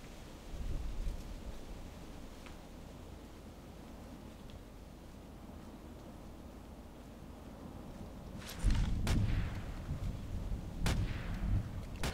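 Gunfire rings out in the video game ADXsniper: after a long, quiet stretch of low ambient rumble, a few sharp, booming shots crack out close together near the end.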